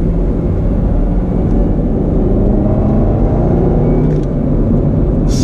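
A 2019 Chevrolet Camaro ZL1 1LE with a supercharged engine rolls over a bumpy road, its deep, steady engine rumble and road noise loud and continuous, with a few faint rattles and knocks near the end.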